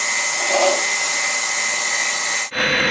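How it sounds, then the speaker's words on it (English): A CNC lathe spindle spinning steadily with the tooling brought in to face the part, a loud, even high whine that cuts off abruptly near the end. "I'm now going to move my tooling in with the MPG hand wheel and face the part."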